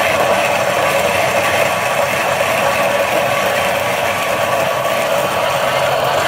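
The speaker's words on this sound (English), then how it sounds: "Okay, let's put it in the grinder, close the lid," A Niche Zero coffee grinder grinds coffee beans close up with a loud, continuous whirring and grinding roar that holds steady throughout.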